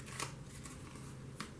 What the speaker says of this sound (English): Now, you want to shuffle these up